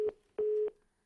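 A telephone line gives a busy tone after a dropped call, two clean beeps, the first short and the second longer, loud and close in otherwise quiet surroundings.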